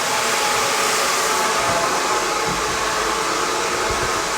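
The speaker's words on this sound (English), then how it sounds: "make sure my nozzle is the same way as my blow dryer" A handheld blow dryer runs steadily at full power, a loud, unbroken rushing roar close by, while hair is dried with a round brush at home.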